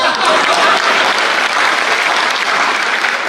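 A Hindi comic poetry gathering (hasya kavi sammelan) audience claps for the poet in a loud, continuous burst of crowd applause that stays even throughout.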